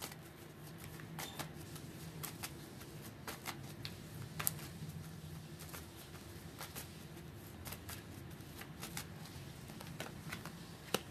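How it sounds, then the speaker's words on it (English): Soft riffling and snapping of tarot cards being shuffled close by, in short bursts separated by brief pauses, fairly quiet. "I'm still getting used to shuffling."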